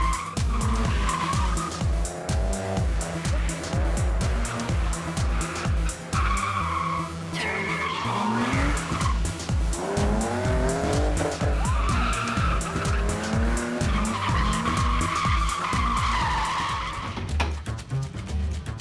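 Drift cars at the Drift Zone at the Ultimate Street Car event, 2011, scream through slides with long, loud tire squeal over revving engines, continuous and close throughout.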